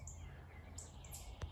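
Birds calling in woods during a Sunday walk, a few thin high chirps and short whistles scattered at a distance over a quiet background hum, with one brief knock near the end.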